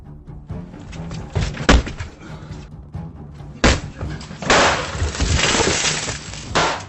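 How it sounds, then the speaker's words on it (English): A gunshot fired from inside a house strikes glass during an attempted vehicle robbery. A sharp crack lands near the start, another hard impact follows, then a broad, loud crash of glass-like noise trails off amid background rumble. "the homeowner, situated inside the house, fired a shot at them. The bullet struck the glass"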